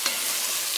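A short stretch of masala stirred in a sizzling pot for Swahili pilau, giving continuous close frying hiss with a faint scrape or two.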